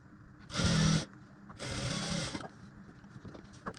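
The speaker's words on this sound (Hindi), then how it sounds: "इसमें मैं सिलाई लगा लेता हूँ" A sewing machine stitching a blouse sleeve runs in two short bursts, each a dense, close mechanical whirr of rapid needle strokes, with quieter handling noises in between.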